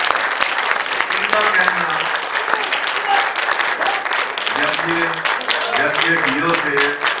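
A gathering of blind people applauds an officer. The clapping comes as a rough, continuous patter, and a voice speaks over it throughout.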